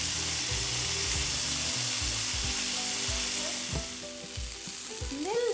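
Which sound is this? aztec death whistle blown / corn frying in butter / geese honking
corn frying in butter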